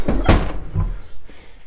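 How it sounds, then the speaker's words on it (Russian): A door to a utility room in a house for sale opens and shuts with a single heavy thunk, close by and loud, followed by a fainter knock. "дверь как раз таки в подсобное помещение"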